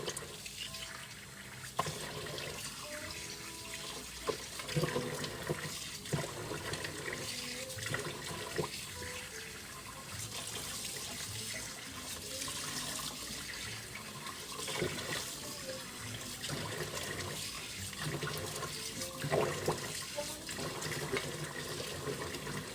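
Steady running water pouring and splashing while soap is rinsed off a body, a continuous close hiss with small irregular splashes and no talk.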